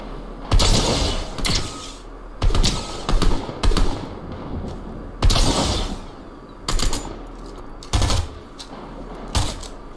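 Spaced bursts of gunfire in Fortnite, loud sharp volleys repeating every second or two with quieter gaps between.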